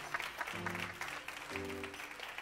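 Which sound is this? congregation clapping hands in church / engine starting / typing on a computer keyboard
congregation clapping hands in church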